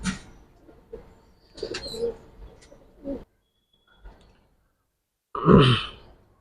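Soft coos of Giribaz pigeons, Silver Army and Sabchila, come in short separate bursts with quiet gaps between them, close by, and a louder throaty coo near the end.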